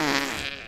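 A short, loud, buzzy fart sound effect, lasting under a second and heard on its own with no talking over it.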